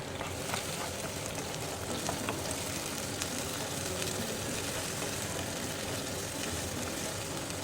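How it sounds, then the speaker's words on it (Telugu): Ginger garlic paste sizzles steadily in hot oil in a pan during chicken curry cooking with spinach, a continuous faint crackling hiss with no talk. "ఇప్పుడు ఇందులోనే అల్లం వెల్లుల్లి పేస్ట్ని యాడ్ చేసుకోవాలి"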